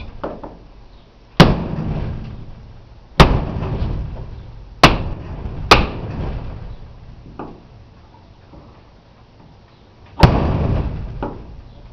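Sharp hammer blows striking a chisel and punch against steel and aluminum, with five loud, isolated metallic impacts spread irregularly over several seconds, each ringing briefly, close by with no talk.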